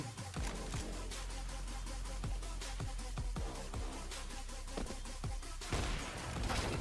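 Gunfire in the video game CS:GO: a run of sharp shots at irregular intervals, some in quick pairs, over dense constant game noise, loud and close, ending in a heavier burst.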